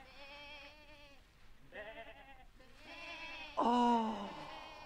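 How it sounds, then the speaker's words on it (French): A sheep bleats several times in a row, the calls close and fairly clear, with the last bleat the loudest and most drawn out. "Un mouton?"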